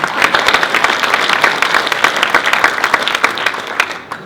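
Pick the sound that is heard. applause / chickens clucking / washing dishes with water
applause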